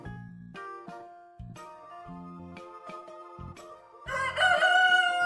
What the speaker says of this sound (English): can you crow like a rooster?